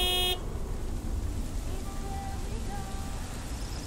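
A big white truck's horn honks in a video game, a loud harmonic blast at the very start followed by rumbling road noise and faint tonal sounds.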